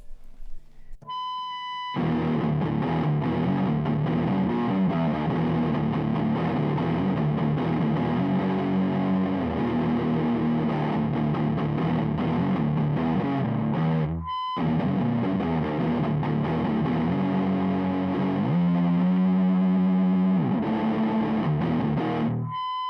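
Loud distorted electric guitar, a Warlock acrylic-body guitar, playing sustained chords and riffs, with a brief cutout midway before the heavy, buzzing tone resumes.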